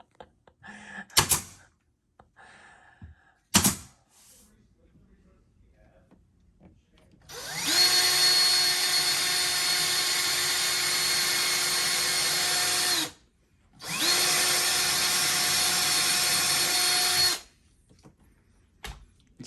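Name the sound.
power drill drilling into wood panel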